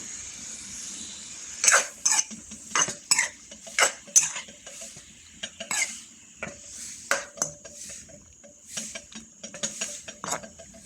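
Sotanghon noodles stir-fried (gisado) in a pan, heard as irregular clanks and scrapes of a utensil against the pan in quick bursts with short pauses, close by; little sizzle is evident.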